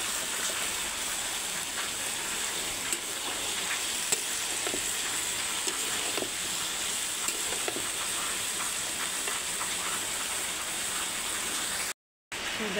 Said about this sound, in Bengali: তো এবার আমি শসাগুলো ঢেলে দেবো।